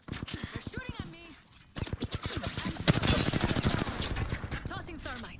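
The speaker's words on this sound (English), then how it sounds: "They're shooting at me." Rapid machine-gun fire in a squad-based shooter game, steady regular bursts of clicky shots in quick rhythm, close and loud, broken by a brief pause, with a voice speaking over part of it.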